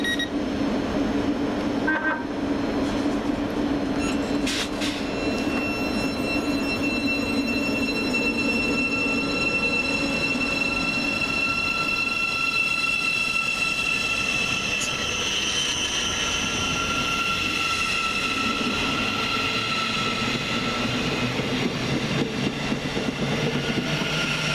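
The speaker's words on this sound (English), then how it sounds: "let's get started with 717005, working the 1304 Govia Great Northern service from Welham Garden City to Moorgate" Govia Great Northern class 717 train 717005 bound for Moorgate at Welham Green station, with a sustained rumble of wheels on rails and tonal motor whine, plus a few brief clanks, steady and fairly close.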